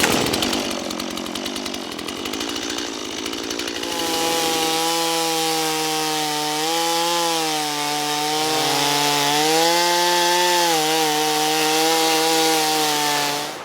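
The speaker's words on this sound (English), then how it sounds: "I'm going to use my chainsaw" A chainsaw revs and bites into wood, its engine pitch rising and falling steadily as it cuts, loud and close with no talking.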